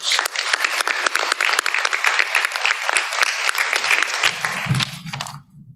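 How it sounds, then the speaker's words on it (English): An audience at a conference session applauds, a dense, loud burst of clapping that holds steady for several seconds before tapering off, and a low voice begins near the end. "I'm going to give you guys a round of applause."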